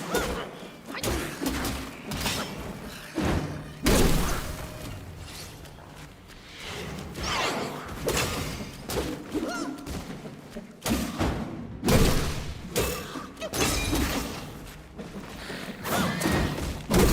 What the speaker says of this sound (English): they just explode